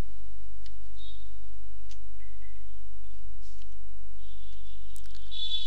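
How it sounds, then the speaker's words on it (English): Computer mouse clicks on a desktop PC during software setup, a few faint, sharp ticks scattered over a steady low hum with no speech. "Just double click this to start the setup."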